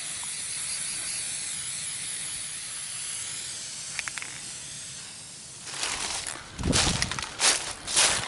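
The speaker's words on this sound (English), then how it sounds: "When you're done spray painting, always invert your can to empty out the straw" A spray paint can, used for steel target maintenance at a shooting range, hisses steadily for about six seconds, followed by louder clunky handling noises.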